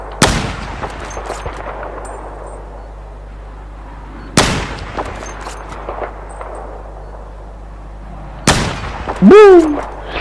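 Three loud explosive detonations from Battlefield 4 gameplay, each a sharp broadband blast with a long rumbling decay, spaced roughly four seconds apart. A rising whistling tone follows the last blast.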